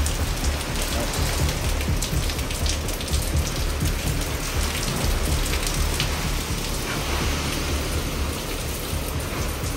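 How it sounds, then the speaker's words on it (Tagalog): Typhoon rain pours down hard, a dense, steady hiss of drops hammering a surface at close range with a blustery wind mixed in, unbroken for the whole stretch and with nobody speaking. "Narinig na rin po ninyo yung hangin at ulan."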